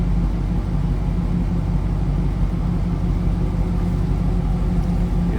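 A 2002 Pontiac Trans Am WS6 V8 idling steadily with a deep, even low rumble and a muffler that may need attention, close and loud, with no voices.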